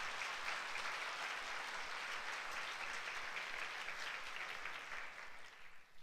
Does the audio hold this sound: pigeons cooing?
no